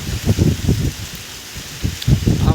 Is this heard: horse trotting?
no